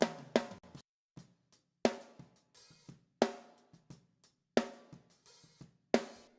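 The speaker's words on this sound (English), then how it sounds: "same thing on the snare. We have my snare raw" Raw unprocessed snare drum in Logic Pro, dry sharp hits in a groove pattern with softer ghost strokes between the louder accented ones, close and unreverberated with silence between strikes.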